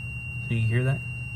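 A multimeter's continuity beep sounds while a fuse is tested during a repair of a Lagler Hummel floor sander switch, as one short tone under a steady hum, with speech around it.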